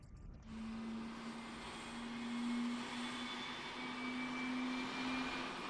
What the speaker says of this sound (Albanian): Herën e parë që ky avion gjigant fluturon drejt qiellit, komandohet nga një pilot i kompanisë Boeing